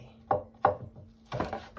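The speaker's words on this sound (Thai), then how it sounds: "หั่นพริกใส่" Chili peppers are sliced on a cutting board with a knife, giving two sharp, separate chops followed by a quicker burst of cuts, close and fairly loud, with no voice over them.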